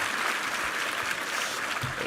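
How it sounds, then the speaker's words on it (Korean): Steady applause from a church congregation for a chamber ensemble that played a fusion of traditional Korean music and classical hymns, a dense unbroken wash of clapping that stays level for the full two seconds with no voices over it. "우리 챔버 팀 힘찬 한번 감사의 박수 부탁합니다."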